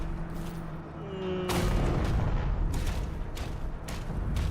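Heavy weapon fire from the skull gun in DOOM: The Dark Ages, a booming, dense barrage of shots and impacts that starts abruptly partway through and continues loudly to the end, with faint talk at the start.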